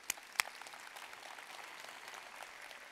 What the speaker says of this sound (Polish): Wielkie brawa za waszą odwagę.